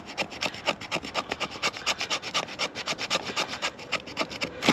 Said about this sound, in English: you take a corner off of the tinder that you're scraping, like it's fat wood, and your 90-degree spine, you run it down the corner